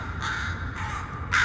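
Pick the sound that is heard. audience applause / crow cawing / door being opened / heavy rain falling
crow cawing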